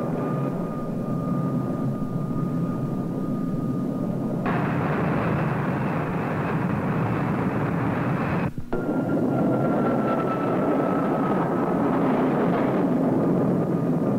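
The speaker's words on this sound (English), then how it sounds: "From the control tower, each pilot will be given the OK signal for a takeoff to the target area." A-4D Skyhawk jet aircraft taking off at the Yuma air station, a loud continuous jet roar with a steady whine, swelling in stages and holding strong throughout with no talk.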